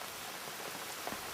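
Rain falling as a steady, soft hiss with scattered drops, quiet and uniform for just over a second with no voices.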